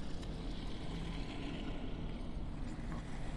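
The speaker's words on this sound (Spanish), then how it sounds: "motor de lancha." A motorboat engine drones steadily in the Sekiro video game, a low, continuous hum at modest volume with no talk over it.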